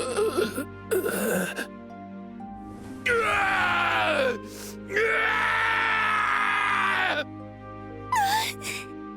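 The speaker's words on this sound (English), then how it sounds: "He's screaming because his body's fighting back" A character screams in pain while his body fights off medicine in Trails in the Sky, giving groaning, wailing cries in several drawn-out bursts with short gaps between them, loud and close over a low steady game tone.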